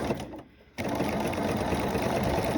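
An electric sewing machine stitches a coiled rope bowl, its rapid mechanical whirring briefly pausing before resuming in a steady, close, continuous run without any speech.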